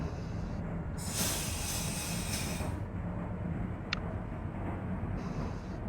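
An NYCT R-32 subway train in the OpenBVE train simulator game rumbles by steadily, with a loud hissing rush as it passes and a short squeal partway through.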